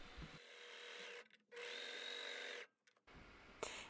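A serger sews a rolled edge on a knotted gown with two quiet, steady whirring runs separated by short pauses. Light handling noises are heard at the start and end.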